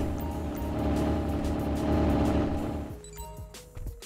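A loud car engine in the video game GTA 5 drones steadily and powerfully for a few seconds, then cuts out, leaving quieter background sounds.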